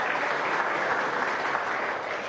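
Studio audience applauding steadily on a live Venezuelan television broadcast, a dense, even clatter of many hands that holds for a couple of seconds and tapers slightly at the end, with no talk over it.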